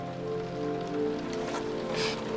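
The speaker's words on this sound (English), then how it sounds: "It's raining again." Steady rain falls, a soft continuous patter on surfaces with gentle tonal hum beneath, moderately quiet and unbroken, with no voices.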